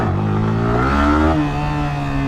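A Yamaha R15 V4 motorcycle engine revs hard during a wheelie, its rising and falling whine steady and loud up close with no voices over it.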